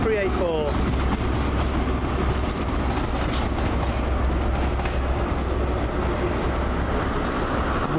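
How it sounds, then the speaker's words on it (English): A First Great Western HST train set leaving, rumbling with clattering wheels and a brief squeal at the start, steady and fairly close, with someone talking over it. "With a First Great Western HST set leaving just over there."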